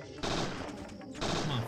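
Gunfire in the PlayStation survival horror game Parasite Eve II comes as a few sharp shots fired at monsters, loud and close, with game sounds and no talking.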